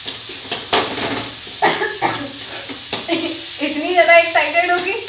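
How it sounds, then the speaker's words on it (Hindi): Spiced potato samosa filling being mixed in a kadhai, with a spoon scraping and stirring in bursts while someone talks over it. "और बस अच्छे से मिक्स कर लेंगे।"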